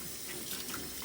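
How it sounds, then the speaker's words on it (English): Hands being washed under a running sink tap in a home kitchen while preparing pulled pork: a steady, close hiss of flowing water splashing into the basin, brief and unbroken, with no voices. "I'm gonna wash my hands really good"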